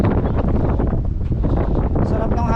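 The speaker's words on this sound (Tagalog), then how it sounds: "Sarap ng hangin, ang lakas." Strong wind roars steadily against the microphone, a loud, constant buffeting rumble with faint voices underneath, outdoors at Biyak na Bato.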